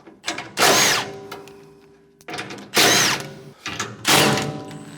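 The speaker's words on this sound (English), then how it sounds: "My handy little impact. Spin the nuts off." A handheld impact wrench fires in three loud bursts, spinning 9/16 nuts off the fan of a MUSKOX 23 37 snowblower, with a ratcheting clatter and short pauses between each run.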